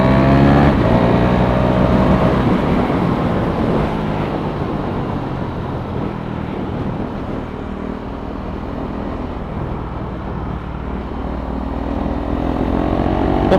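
A motorcycle, a Duke 390 or Dominar 400, accelerates hard nearby, its engine note rising and holding through a long pull with a fading, steady drone mid-clip before building again, no voices.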